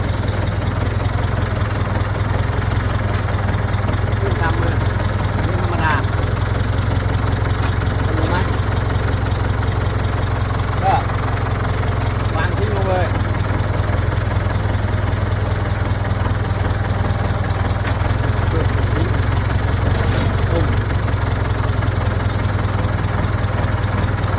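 A Ford 6600 tractor's diesel engine idles steadily, its low, even rumble running throughout with faint mechanical clatter and occasional clicks on top.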